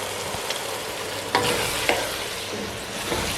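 Mixed vegetables with homemade garam masala and black pepper powder sautéing in a pan, a steady sizzle under a few sharp spoon scrapes, close and alone with no voices.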